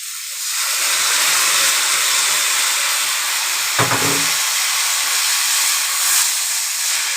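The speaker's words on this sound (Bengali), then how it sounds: "দেখো এবারে ধুয়ে রাখা চাল ডালগুলো দিয়ে দেব" Washed rice and lentils tipped into a hot pan with salt and turmeric for plain khichuri, raising a loud, steady sizzling hiss that fills the whole stretch, with a brief clatter midway.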